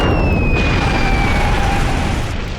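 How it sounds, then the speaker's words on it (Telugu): Two mixed chemicals blow up in an animated cartoon, a loud, sustained explosive roar with ringing tonal whistles that slowly fades, no speech. "బ్లాస్ట్ అవబోతోంది."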